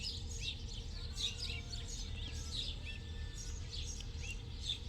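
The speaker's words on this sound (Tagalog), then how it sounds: "Sounds of the birds." Small birds chirping in a rural countryside setting, with repeated short high tweets arriving in loose bursts over a steady low background hum, moderately close and clear.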